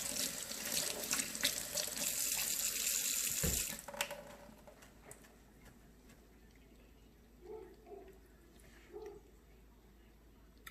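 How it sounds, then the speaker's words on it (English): Hot tap water runs into a sink as a spoon is rinsed, a steady close rush for a few seconds, then faint drips and soft kitchen clatter. "Wash my spoon under hot water."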